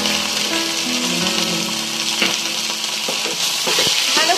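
Ground spices stirred and fried in hot oil for a Bengali fish curry, a steady dense sizzle with scraping stirring strokes throughout, close and continuous without any voice.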